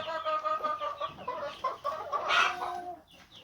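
Domestic hens and small roosters clucking inside a chicken coop, several birds calling over one another in a steady, busy chorus with a louder burst of squawking near the end.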